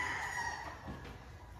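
A rooster crows over steady background noise, with some soft clucking from nearby gamefowl on a game farm at Mt. Banahaw; no one speaks.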